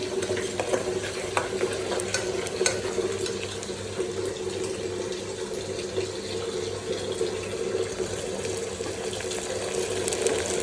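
Tomatoes tipped into onions frying in a pan, a steady close sizzle with continuous stirring and scraping over a constant hum from the stove or nearby appliance.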